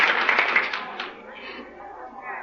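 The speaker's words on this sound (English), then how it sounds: "listen to that applause" Applause from a theater audience on a vintage radio broadcast, a brisk burst of clapping that fades quickly, with a voice faintly underneath.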